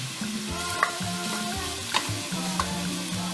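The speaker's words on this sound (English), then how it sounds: "And then I'll shallow fry my meatballs." Meatballs shallow frying in sunflower oil in a saucepan give a steady, close sizzle and crackle with a few brief pops, under a soft tonal background.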